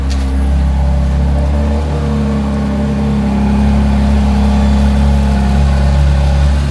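A McLaren Artura Spider fires up from cold, its engine settling into a loud, steady low idle with a deep constant drone and no voices.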